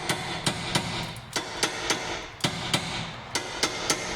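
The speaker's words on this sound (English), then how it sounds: "when you hammer a socket on" Sharp metallic hammer blows strike a socket onto a car's rear brake fitting in a quick, fairly steady rhythm, about a dozen hits close up, with no talking.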